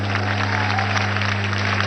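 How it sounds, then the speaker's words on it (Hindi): Audience applause at an agricultural award ceremony, a steady wash of clapping that holds evenly for the whole stretch over a constant low electrical hum, with no speech on top. "जोरदार तालियों के साथ।"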